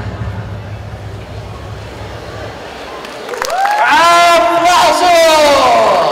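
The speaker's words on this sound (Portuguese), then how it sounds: "Aplausos!" A crowd bursts into applause and cheering after a cosplay contest performance at Super XP 2024. The clapping swells suddenly after a quieter stretch and stays loud, with voices calling out over it.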